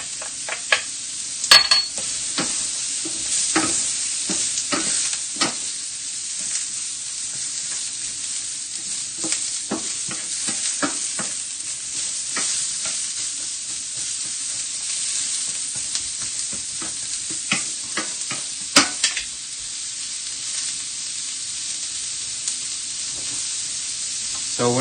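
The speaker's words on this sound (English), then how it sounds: "Just keep sauteing that. Add our garlic." Rice and garlic sautéing in a pan, a continuous bright sizzle broken by repeated stirring scrapes and utensil taps against the pan, close up with no speech.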